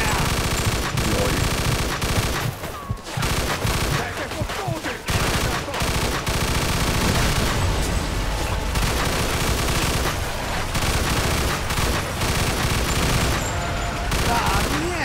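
Continuous heavy gunfire in Mafia II Definitive Edition makes a loud, dense battle of overlapping automatic bursts and single shots with occasional booms. It goes on for the whole stretch, with a few brief gaps.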